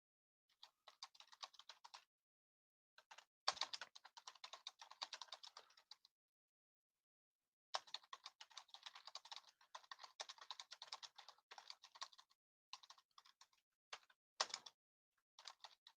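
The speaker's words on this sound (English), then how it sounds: "I'm just typing in just a little blurb in here for the text to speech." A computer keyboard is typed on in bursts of rapid light clicks, close and quiet, with pauses of silence between runs and no voices.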